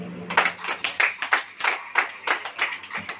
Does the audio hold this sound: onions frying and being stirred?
no